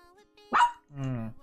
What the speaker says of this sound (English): My dog is barking.